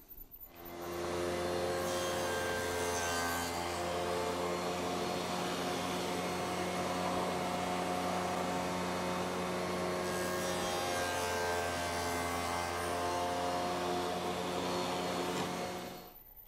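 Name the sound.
cutting a series of dados in wood using a miter gauge fence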